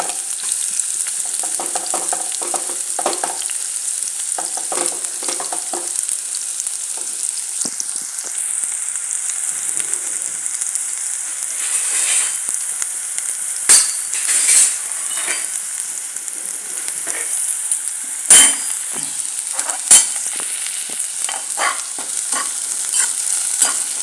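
Onions sizzle and fry in a hot pan, a steady loud crackle with occasional stirring scrapes and clinks.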